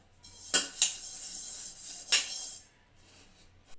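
Dishes, pots and plates clatter in a sink as they are washed, with several sharp metallic clinks and knocks at uneven intervals over quieter rubbing and splashing, close and fairly soft.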